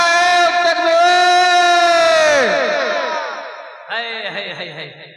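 A large crowd at an outdoor religious gathering answers a call of Naara-e-Takbeer, shouting a loud, drawn-out Allahu Akbar in unison that fades, then is followed by a shorter second shout.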